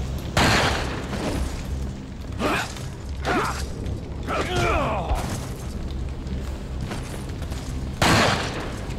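A flash grenade explodes in Resident Evil 4 among loud bursts of combat noise. Several sharp blasts and impacts hit, one near the start and another near eight seconds, with clattering mechanical sounds between them.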